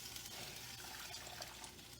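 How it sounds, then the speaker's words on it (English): Water pours and trickles into a cooking pot holding stock and beef, a continuous splashing, burbling flow heard up close with no talk. "I'm going to put a little bit more water in there."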